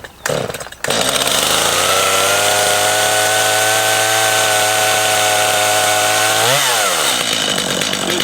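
Stihl chainsaw being started after a few pulls, then roaring loud and steady at high revs for several seconds before the throttle drops briefly and climbs again; no voices.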